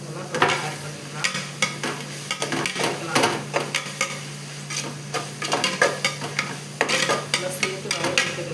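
Green chilies, coriander and mint sauté in a pan for chicken biryani, with a sizzle under repeated close scrapes and clinks of a spoon stirring against the metal in an uneven rhythm.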